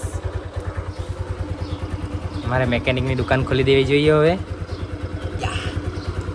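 A motorcycle engine idles steadily with a rapid even putter after being self-started following a roadside repair, while someone speaks close over it for a couple of seconds.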